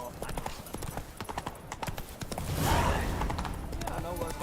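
Horse hooves clip-clop in a steady rhythm in The Witcher 3, set in Skellige, with voices talking over the gallop and a louder burst of ambient noise midway.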